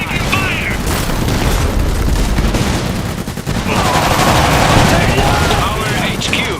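Rapid, dense gunfire and booming explosions from a battle in the Iron Harvest strategy game, a loud, continuous barrage filling the whole stretch with no pause.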